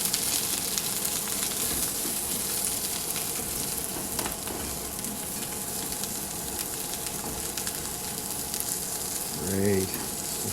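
Garlic and carrots stir-fry in a hot pan, sizzling steadily and loudly throughout, with a brief utensil scrape near the end.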